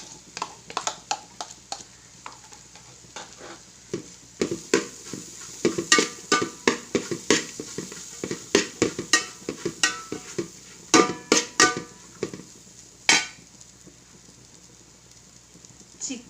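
Egg frying in a pan for chicken fried rice, heard as a soft, steady sizzle under a long run of quick, uneven scrapes and clatters from stirring, close by with no talking.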